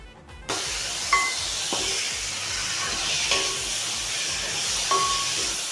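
Chicken fried rice sizzles loudly and steadily in a hot pan as soy sauce goes in, a sharp burst of hiss that settles into continuous frying with light scraping and clinks.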